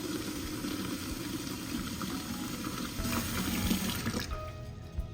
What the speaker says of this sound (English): Place your brand new clay pot in the sink and then fill it with water